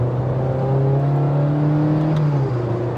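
An automatic Honda Amaze accelerates from inside the cabin, its engine giving a loud, steady drone that rises gradually in pitch with a sustained hum throughout.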